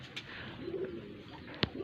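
A pet pigeon kept by a hobby fancier gives a soft, low coo, fairly faint over light background noise, and a single sharp click follows near the end.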